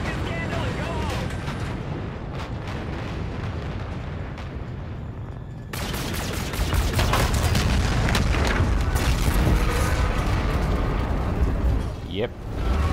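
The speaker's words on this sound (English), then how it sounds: "I'd call that detonation confirmed" Explosive detonation of a tower in a video game, a sudden loud boom midway that jumps into a sustained roaring, crackling rumble of blast and debris over dense game noise.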